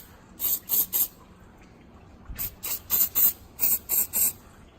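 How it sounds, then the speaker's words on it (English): WD-40 aerosol spray hisses out in short bursts onto rusty exhaust bolts of an LS 6L engine, three quick sprays, a pause, then about seven more in a steady rhythm, close up. "we'll give all the exhaust bolts a spray with WD"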